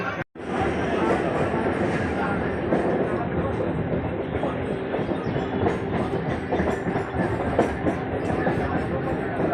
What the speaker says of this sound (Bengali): আমাদের ট্রেন খড়গপুর পৌঁছে গেছে